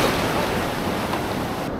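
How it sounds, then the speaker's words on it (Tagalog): Strong surf rolls in at Lucky Beach in Mariveles, Bataan, on a rainy-season morning, a continuous broadband roar of waves mixed with wind buffeting the microphone, with no speech. "Ang lakas ng alon ngayon o."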